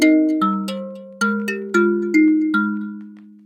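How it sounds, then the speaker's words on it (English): Kalimba opening a pop song, a sequence of bright plucked notes with sharp attacks and long ringing decay, struck in an uneven melodic rhythm and heard clearly up front alone. "The kalimba starts off the top because it's got a lot of resonance and it's got a strong attack."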